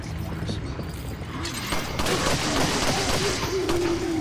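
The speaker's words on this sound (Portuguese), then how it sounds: "Não sabia que a pistola dava tanto tiro assim, não." Pistol gunfire in the Resident Evil 4 video game, a rapid string of sharp shots mixed with game effects and a rising tone, with a voice talking over it.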